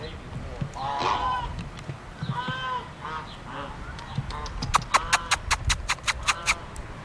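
Ducks call with honking, nasal cries, building into a quick series of loud regular calls near the end over a noisy outdoor background.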